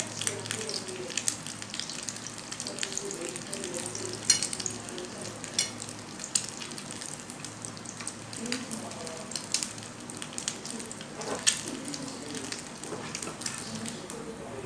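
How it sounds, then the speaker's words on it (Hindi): A sandwich shallow-frying in oil in a pan, with a continuous close sizzle and crackle, occasional louder spits and pops, steady throughout with no talk. "अब हम इसकी दूसरी साइड फ्राई होने तक वेट करते हैं"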